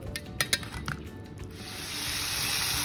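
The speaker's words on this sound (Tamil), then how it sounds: "இப்போ நல்லா சூப்பராக ஃப்ரை ஆகிட்டு இருக்குது." Food fries in hot oil, opening with a few clinks of a utensil against the pan before a steady bright sizzle swells and holds, close and continuous.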